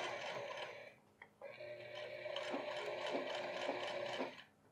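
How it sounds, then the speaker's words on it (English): Sewing machine topstitching along a seam edge on jeans, a quick mechanical ticking run that pauses briefly, then resumes as a steady whirring patter before stopping. "Now over to the right side, and I top stitch"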